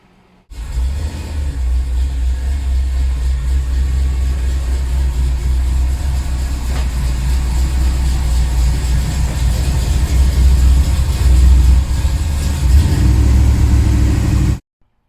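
A 1976 Dodge Aspen engine runs steadily and loudly up close, a continuous low rumble with rising revs toward the end before cutting off.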